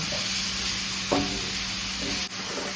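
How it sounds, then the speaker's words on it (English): Chopped mushrooms sizzling in a pan for steak dip, a steady close sizzle with a couple of brief stirring scrapes, no voices. "Give that a mix and let the mushroom cook down for about 3 minutes or so"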